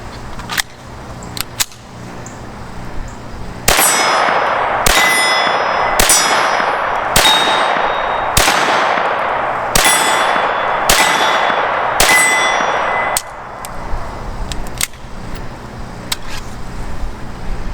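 A .22 Sig pistol with a conversion kit fires Winchester yellow-box rimfire ammo, about eight sharp, evenly spaced shots, loud and close with metallic ringing, plus fainter distant pops before and after.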